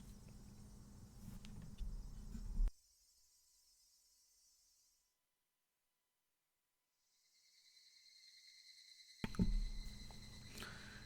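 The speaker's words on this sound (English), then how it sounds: "The cries of the Higurashi were soothing to the ears." Higurashi cicadas in the Higurashi visual novel, a shrill steady buzzing chorus that cuts out to near silence and then swells back in, with low rumbling beneath at the start and end.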